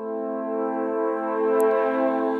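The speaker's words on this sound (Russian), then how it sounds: "А вот как звучат теноровые тромбоны." Tenor trombones from the Spitfire Symphonic sample library sustain a full, steady brass chord, rich and even, swelling slightly before easing off.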